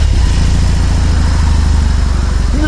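A BMW R 18 motorcycle, whose big boxer engine has no balancer, idles loud and close with a steady, lumpy low throb throughout.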